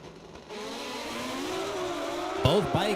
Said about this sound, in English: Both bikes leave at about the same time